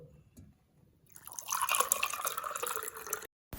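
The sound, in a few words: liquid being poured into a lime drink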